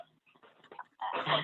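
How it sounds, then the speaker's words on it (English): A small dog lying nearby gives soft, faint whimpers and yips over a quiet room during an online meeting, ending in a louder, fuller whine. "sorry, that's my dog."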